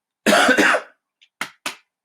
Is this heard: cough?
yes